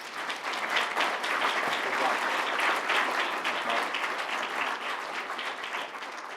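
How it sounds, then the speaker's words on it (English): An audience applauds a panel at a technology discussion salon, dense even clapping that holds steady throughout, with faint chatter underneath. "Can we give the panel a round of applause"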